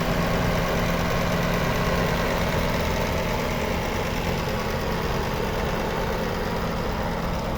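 A 1996 Toyota Corona with the 3S 2.0-litre engine idles steadily up close, a continuous low mechanical hum with faint rhythmic knocking and vibration, no voices.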